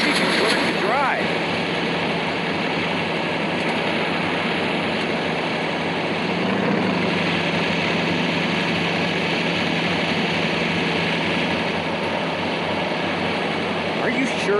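Steady car engine drone from the driving game Taxi Sim 2020, a continuous hum heard evenly over about fifteen seconds with no pauses.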